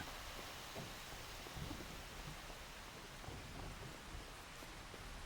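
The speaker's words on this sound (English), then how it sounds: "Well, that's no good. It's raining." Steady, dense rain pours in Farming Simulator 25 on the Zielonka map, with low thunder rumbling through it at an even, constant loudness the whole time.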